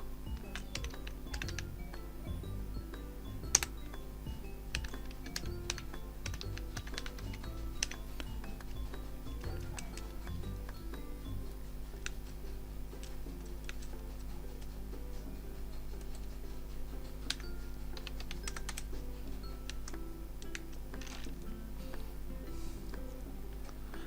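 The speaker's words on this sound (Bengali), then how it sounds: "তো আমি ফটাফট হাবলু ভাইয়ার অ্যাড্রেসটা লিখে ফেলি।" Rapid, steady clicking of a computer keyboard while an address is typed, light close keystrokes in continuous bursts over a faint low hum, no talk.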